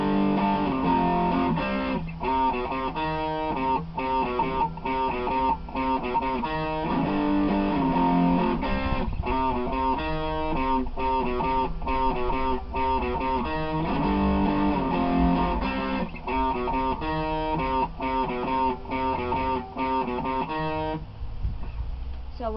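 Distorted electric guitar chugging through the chorus of The Runaways' "Is It Day or Night?" with power chords, a loud, repetitive driving rhythm that fills the whole clip.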